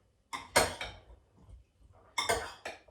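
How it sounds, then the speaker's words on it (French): Spoon clinking and scraping against a bowl while fresh fruit salad is gently stirred, two short bursts of clatter near the mic with a quiet gap between. "je vais touiller délicatement"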